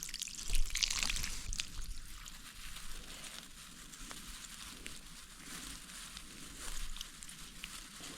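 Faint continuous trickle and spray of water leaking from a hose watering raspberry plants, with a soft hiss, steady throughout, briefly stronger near the start.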